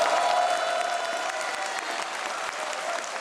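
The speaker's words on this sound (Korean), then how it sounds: "뜨거운 박수와 환호가 터져나옵니다" Audience packing a lecture hall in Andong claps and cheers for a politician taking the stage, a dense continuous burst of applause that is loudest at the start and eases slightly.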